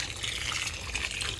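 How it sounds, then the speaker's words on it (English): Water pours steadily onto a newly planted tomato plant in a garden, a continuous close splashing gush with no talking. "With this style, you should water it immediately so that the plant will produce"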